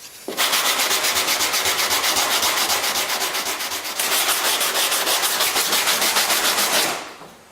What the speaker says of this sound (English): so a little bit more sanding to go